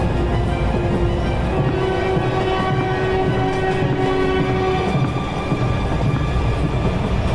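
A train at a station in a horror cartoon rumbles loud and steady throughout, with a sustained horn-like tone through the first five seconds and no talk.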